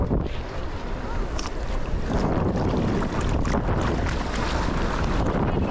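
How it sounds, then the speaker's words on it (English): Choppy Gulf waves and strong wind at the shore, heavy steady wind buffeting the microphone over the rushing surf, loud and continuous throughout with no clear talk. "look at these waves. This is not the Gulf weather I expected"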